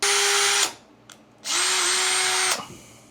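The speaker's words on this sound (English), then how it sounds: "We'll pre-drill a hole right there." A power drill pre-drills a hole in PVC for a homemade fishing rod holder, running loud and steady in two bursts of about half a second and one second, with a short pause between them and no talk.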